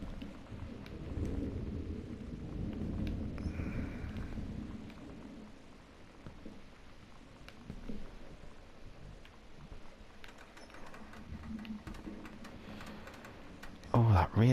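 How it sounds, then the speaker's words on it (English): Rain and thunder ambience in the game Gone Home: a soft, steady wash of rain with a low rumble swelling early on, and light tapping clicks and a sharp knock near the end. "Oh, that rain's so unsettling."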